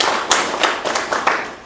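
A small group at a press briefing on an industrial park claps sparsely, a handful of separate sharp claps and taps spaced out unevenly, close and fairly loud.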